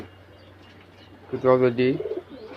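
Pigeons nesting on eggs in loft boxes give a short burst of throaty cooing after a quiet start, close and fairly loud, with a person speaking nearby.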